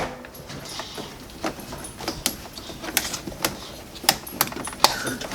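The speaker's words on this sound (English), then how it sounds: "you're supposed to hear a click" Sharp plastic-and-metal clicks and light rattles from a Bosch dishwasher being fitted into place, several crisp snaps scattered over a few seconds against a quiet room background.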